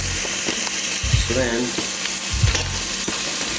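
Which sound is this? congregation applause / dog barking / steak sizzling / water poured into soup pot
steak sizzling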